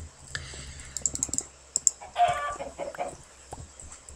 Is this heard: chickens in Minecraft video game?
yes